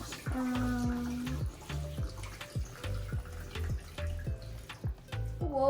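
Homemade strawberry açaí lemonade poured out in a kitchen, a soft uneven splashing stream of liquid with small knocks and clinks, fairly quiet and without talk.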